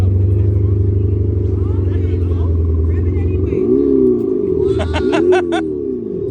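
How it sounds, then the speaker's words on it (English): A Tesla car on a city street puts out an artificial engine sound, a low steady hum that swoops into revving rises and falls, loud and close, with a voice faintly nearby. "Why is this Tesla making an engine noise?"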